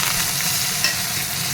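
Curry leaves and dried red chilli sizzle in hot oil with mustard seeds and cumin, a tempering for sambar, giving a steady close crackling hiss throughout with a brief louder pop midway.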